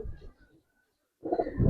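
Pigeons in a loft coo low and close, in short bursts at the start and again near the end, with a silent gap between them.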